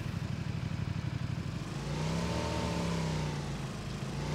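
A car drives nearby, its mid-pitched engine humming and revving steadily before smoothing into a sustained drone as it moves away.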